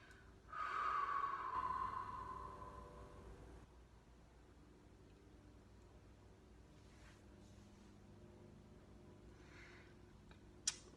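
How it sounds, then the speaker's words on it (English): A slow, breathy exhale during a breathwork exercise, soft and close, tapering off into quiet room tone with one faint click near the end. "And then exhale through your feet."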